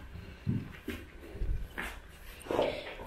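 A Dalmatian sniffs closely at another dog, giving a few short, snuffly bursts of breath at close range with brief pauses between them.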